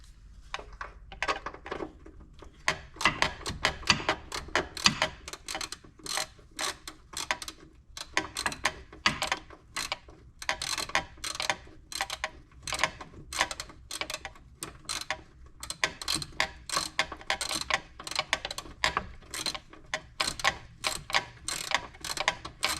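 A ratchet clicking steadily in rapid repeated strokes while work is done on a Mitsubishi Evo 8, close and fairly loud with brief pauses between runs.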